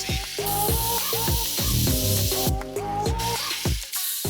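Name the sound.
spraying bug remover on car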